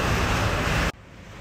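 Strong wind on the open deck of a cruise ship at sea near the Bahamas roars loudly and steadily, then drops abruptly to a softer rushing background.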